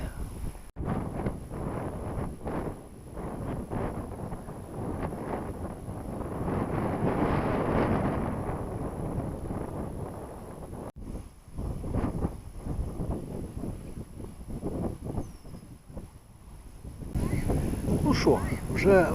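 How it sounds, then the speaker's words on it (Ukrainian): Heavy wind buffeting the microphone with a broad roaring rumble that surges and eases, mixed with someone talking through much of it, while feeder fishing on the Southern Bug river in March. "Вітер розгулявся просто страшенний"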